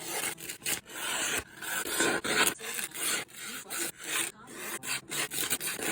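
A blue ESEE Izula knife cuts with loud, close, repeated rasping strokes in an uneven sawing rhythm, with short pauses between passes and no talking.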